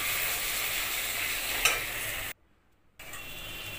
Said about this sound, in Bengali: এবার মশলাটা দিয়ে নাড়াচাড়া করে